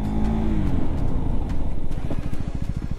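A KTM Duke 390 motorcycle braking hard with ABS engaged: the engine note winds down, then gives way to a fast, steady stutter of rear ABS pulses, close and loud.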